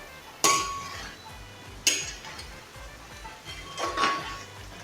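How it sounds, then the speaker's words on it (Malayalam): A metal utensil clinks against a wide pan while liver fry is stirred, three distinct sharp taps spaced a second or two apart over a low sizzling background. "ഇനി ഇത് ആ ചാറ് പറ്റുന്നിടം വരെ നമ്മളിങ്ങനെ ഇളക്കിക്കൊണ്ടിരിക്കണം"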